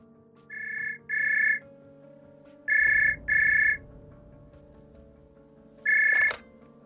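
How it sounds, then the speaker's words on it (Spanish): A telephone rings in a Spanish-language drama: five bursts of a bright electronic ring, in pairs with pauses, plus a sharp click at the end, over a low steady hum with no talking. "Junko logra encontrar un teléfono e intenta llamar a la policía a pedir auxilio."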